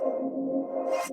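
A sustained synth bass tone with a filter swept by an LFO gives a shifting, vowel-like talking quality, steady and alone, with a brighter hiss rising at the end.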